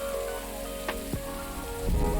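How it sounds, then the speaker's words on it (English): Rain falls during a mild thunderstorm in Northern California's rainy season, a quiet and steady patter with a few brief sharper sounds. No one speaks. "I love rain."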